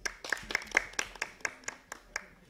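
Applause for a student at a Guinean school ceremony, made of sparse, distinct handclaps at an uneven rhythm, fairly close and moderately loud, with faint voices in the background.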